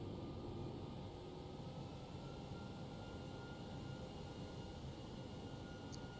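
Steady airliner engine drone from an Air New Zealand A321 taxiing in the X-Plane 11 flight simulator, a continuous low rumble with broadband hiss and no talk.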